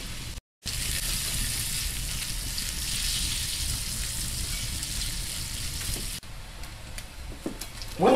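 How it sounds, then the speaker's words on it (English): Bacon sizzling as it fries in a pan, a steady dense crackling hiss that runs almost continuously with a brief drop-out near the start and a quieter stretch toward the end, close up and without talk. "Enjoy the smell here of the sizzling bacon in the pan."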